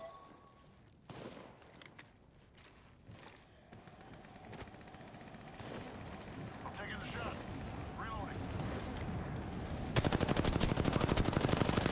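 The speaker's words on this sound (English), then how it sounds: "Calling the airstrike." An airstrike bombardment in the mobile shooter Apex Legends Mobile, Flashpoint mode, starts with scattered distant blasts, swells into a dense rumbling barrage, and ends in loud, rapid, continuous fire.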